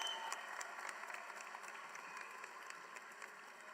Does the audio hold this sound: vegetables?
no